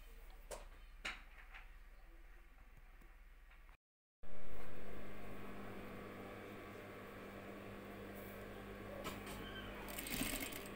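A sewing machine stitching the seams of a mosquito net, with short bursts of running and handling noises at first, then a louder steady whir after a brief gap, with faint clatter near the end.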